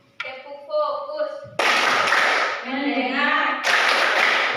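Classroom pupils standing for a rhythmic clapping chant, with short spoken calls and two loud bursts of group clapping between them, fairly close.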